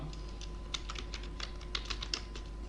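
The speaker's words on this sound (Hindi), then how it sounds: "यहाँ पर किसी का नाम टाइप करना है।" Soft, rapid clicking of a computer keyboard as a name is entered, a quiet irregular run of keystrokes over a faint steady hum.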